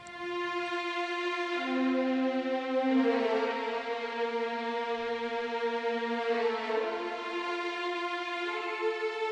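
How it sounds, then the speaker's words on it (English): A rich sustained synthesized string section plays slow soaring chords, bright and layered, shifting pitch smoothly with no other sounds. "soaring string, which sounds like this."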